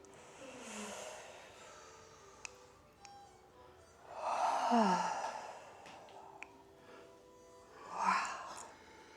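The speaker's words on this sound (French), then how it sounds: "Voilà, continuez de bâiller." Several slow, breathy yawns during a jaw-relaxation meditation exercise, each a soft rising and falling exhale with a faint voiced tone, close and quiet with pauses between.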